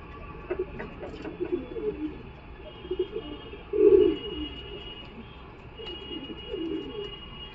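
Giribaz and Madras pigeons at a Galiff Street pigeon market coo in soft, repeated bursts, with one fuller coo near the middle, over a steady murmur of market background.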